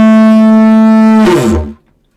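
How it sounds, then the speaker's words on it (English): A loud, sustained elephant trumpet blast with a strong harmonic tone, rising into a brassy, noisy peak before cutting off abruptly into silence. "And that's an elephant sound."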